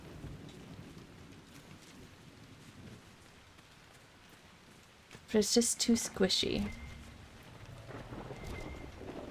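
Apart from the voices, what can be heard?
rain and thunderstorm ambience in Dragon Age: Inquisition video game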